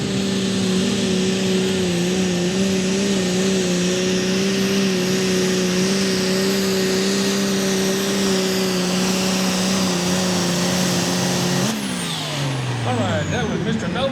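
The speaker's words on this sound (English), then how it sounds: "driving the diesel-powered AGCO called the Cracker Jack" Diesel AGCO tractor called the Cracker Jack at a night tractor pull in Ardmore, Tennessee, droning loud and steady with a sustained engine tone that suddenly drops and winds down near the end, under crowd and announcer noise.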